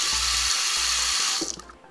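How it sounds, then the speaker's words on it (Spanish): Water runs from a horn-shaped sink faucet in a hotel bathroom in Thailand's Golden Triangle, a steady broadband hiss that stops near the end. "Miren la llave de lavabo"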